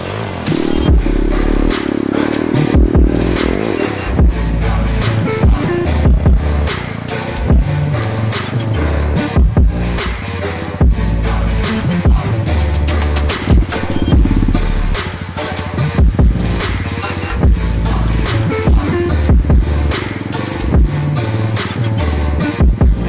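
A pit bike rides along, its small engine buzzing and revving up and down with repeated clattering knocks and scrapes, loud and close throughout, without speech.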